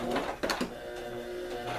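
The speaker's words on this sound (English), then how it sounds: "I'm just going to start zigzagging the pieces" A sewing machine zigzag-stitches fabric pieces for a DIY foraging bag, giving a few short mechanical whirring bursts in the first moments followed by a quieter steady hum, close and moderately loud.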